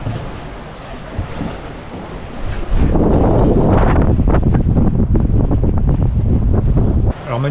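Strong wind roars across the open Atlantic on a solo sailboat, buffeting the microphone loudly with surging gusts, and rushing water beneath.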